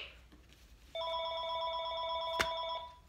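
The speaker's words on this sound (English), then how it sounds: "Just like that phone ringing right now." Telephone ringing with a steady electronic tone that starts abruptly and holds, loud and near, with a brief click partway through.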